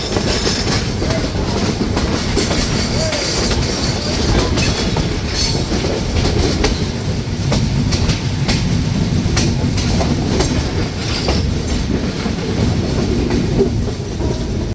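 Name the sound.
Chitra Express train running on rails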